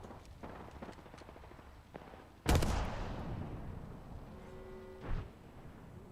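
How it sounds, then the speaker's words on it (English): Video game combat with a grenade blast and gunfire: a sudden loud explosion with a long decaying rumble, then a lone sharp shot, over a low ambient bed. "Fire in the hole! Grenade out."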